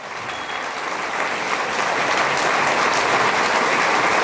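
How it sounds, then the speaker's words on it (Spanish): A large audience applauds while standing at a national leaders' gathering, with loud, dense, sustained clapping that swells and holds steady throughout. "Por favor, un aplauso grande."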